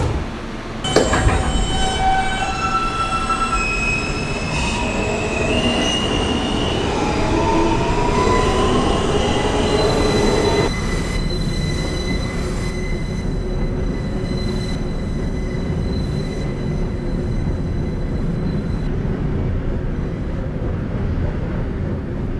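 A Coney Island–bound F local subway train in New York runs steadily and loudly, with rumbling wheels, squeals and tonal whines in the first half, then a sustained rattling roar that continues to the end.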